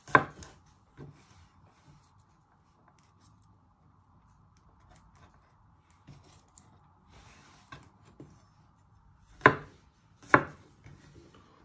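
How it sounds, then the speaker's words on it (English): A knife chops garlic on a board for a lamb chop dish: a few sharp, isolated knocks, the loudest near the end, separated by long quiet stretches with faint background hum. "And you just want to chop it into pieces."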